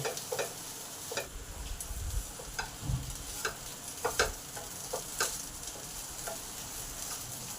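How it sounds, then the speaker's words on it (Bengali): Potatoes sizzle steadily in oil in a pan while a spatula stirs and turns them, with soft scraping taps scattered over a continuous frying hiss; no one speaks. "আলুগুলো আমার ভাজা হয়ে গেছে এবার নামিয়ে দেবো"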